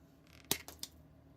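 Scissors snipping small tips off icing tubes from a Rice Krispies Treats holiday train kit: three quick, close, crisp cuts in a room with no other sound.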